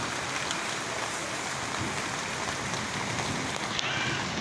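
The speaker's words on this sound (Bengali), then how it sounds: "বৃষ্টি পড়া শুরু হয়ে গেছে হালকা পাতলা" Light rain falls steadily on a stormy day with lightning, a dense, even hiss with no gaps throughout, fairly near, with one faint brief knock partway through and no talking.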